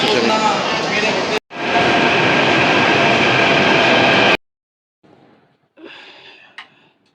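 Delhi metro train at Kashmere Gate station, a loud steady rumble and whine of the moving train that stops abruptly, followed by faint quieter bursts of background noise.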